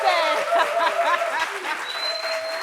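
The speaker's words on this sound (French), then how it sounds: "Applaudissements pour la pétillante Brazing Girl." An audience applauds briefly, dense clapping with a few cheers and chuckles mixed in, fairly close and steady before tapering slightly.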